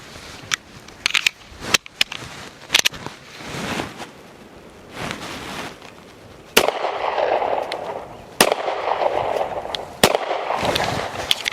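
Gunshots from a Smith and Wesson M&P Shield Plus pistol at a range, sharp individual cracks spaced irregularly over steady background noise, some close and loud, others quieter as if from nearby shooters.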